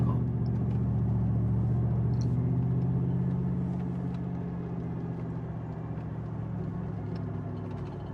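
An off-road overlanding vehicle drives over mixed sand and rock on Wild Horse Road in Utah, giving a steady low engine rumble with cabin drone that eases slightly in loudness partway through.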